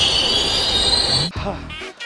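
A train's wheels screech loudly as it brakes after the emergency chain is pulled, then the grinding cuts off and a voice briefly speaks.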